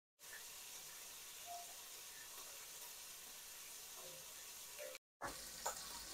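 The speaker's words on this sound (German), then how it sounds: "den von uns schon gewürfelten Speck schön anbraten" Diced bacon sizzles and crackles steadily in a hot pan, a constant close frying hiss with small pops and no voices.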